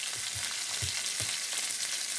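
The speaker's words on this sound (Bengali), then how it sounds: "সবজি দিচ্ছি। এটা আমি সুন্দর করে ভেজে নেব।" Vegetables fry in a hot pan with a dense, even sizzle throughout, broken by a few soft low bumps of stirring, close and steady with no voices.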